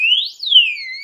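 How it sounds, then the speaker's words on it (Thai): A loud, piercing electronic siren from a motorcycle disc brake lock alarm wails continuously, sweeping up and then down in pitch, close and alone. "นี่คือเสียงเตือนนะครับ ว่ารถของเรามีการขยับนะครับ"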